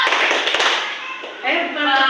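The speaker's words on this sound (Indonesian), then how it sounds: "Tepuk profil pelajar Pancasila." The Tepuk profil pelajar Pancasila, an Indonesian school clapping routine, brings a few sharp, close claps amid a voice chanting the routine's words in a loud, lively rhythm.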